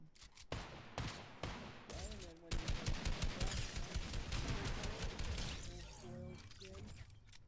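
Rapid automatic gunfire and a few single shots crack through a Fortnite match, dense bursts of shooting with impact noises and shattering, mixed with in-game effects and occasional voices underneath.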